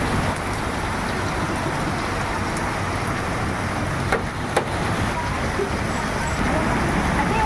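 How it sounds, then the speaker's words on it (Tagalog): Steady, heavy rain pours down in a constant hiss on a Philippine street, with a couple of faint knocks and distant traffic underneath. "Lakas pa rin yung ulan guys, oh."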